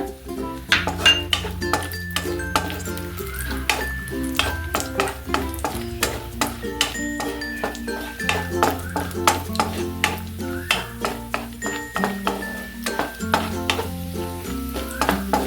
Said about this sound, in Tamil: இது முந்திரி ஒரு லைட்டாக ப்ரௌன் ஆனதுக்கப்புறம் நாம் இந்த உலர்ந்த திராட்சை ரேசன்ஸு போட்டுக்கலாங்க